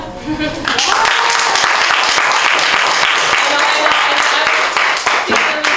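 Audience applause fills a Filipino-Canadian literary festival event, with sustained dense clapping from the crowd that stays loud and steady throughout.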